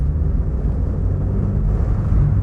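A Mazda 1000/323 engine drones steadily from inside the cabin as the car accelerates in rush-hour traffic, a loud, dense low rumble without any talking.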